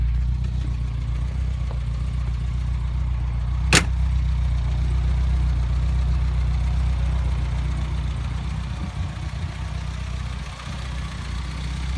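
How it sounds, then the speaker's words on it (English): A 1973 Ford Cortina GT replica engine idles with a steady, low, even rumble for the whole stretch, broken by one sharp brief click partway through. "So let's try and start the car up"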